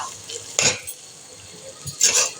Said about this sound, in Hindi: मटर को भी थोड़ा सा फ्राई करते हैं इसमें